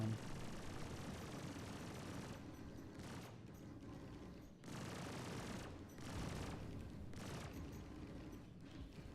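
A Constellation spaceship opens fire in the video game Star Citizen, producing dense, rumbling barrages of gunfire that roll on in long bursts broken by brief lulls.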